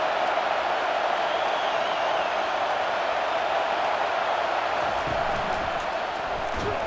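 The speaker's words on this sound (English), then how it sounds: "This crowd going to try to make life miserable for these guys." Steady roar of a stadium crowd in a college football video game, FCS Southeast against LSU, a constant broad wash of noise holding level throughout, with faint cheering swells near the end.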